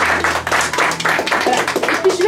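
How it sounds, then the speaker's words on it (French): Audience clapping at a small gathering held at a Crédit Agricole bank branch, a steady patter of many hands lasting a couple of seconds, close and fairly loud with faint voices underneath. "Donc je pense qu'on peut vous applaudir même d'ailleurs"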